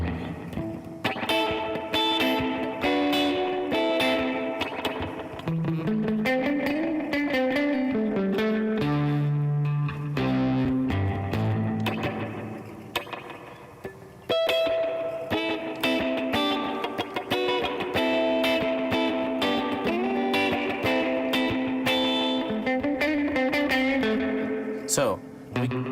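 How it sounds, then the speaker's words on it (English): Vintage tape echo and spring reverb run together on an electric guitar, giving repeating delayed notes over a reverberant wash through a loud, steady stretch of playing. "And you can use both of them at the same time, or just the reverb, just the echo."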